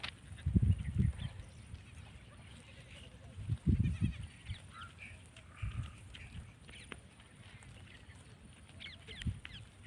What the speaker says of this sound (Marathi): आणि इकडे शेळ्या चरत आहेत